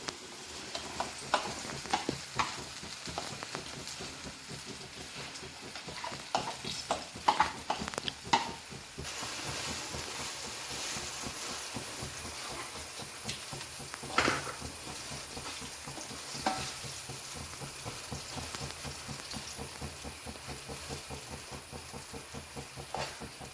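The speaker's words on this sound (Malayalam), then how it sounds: "ഇനി ഈ നെയ്യ് ഒഴിച്ച പാനിലേക്ക് നമ്മൾ അരച്ചു വെച്ച ചക്ക ഇതിലേക്ക് ഇട്ട് കൊടുക്കുക." Ground jackfruit cooking in a ghee-coated pan for halwa: a soft, continuous sizzle runs throughout, broken by irregular scraping and clinking strokes of a spoon stirring the thick mixture, fairly quiet and close.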